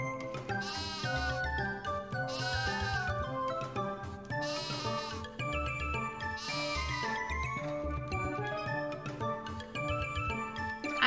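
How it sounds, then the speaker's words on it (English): Sheep bleat repeatedly in a Final Fantasy III 3D remake village scene, several drawn-out cries layered over steady chiming game music with a light tinkling jingle throughout. "And you have sheep."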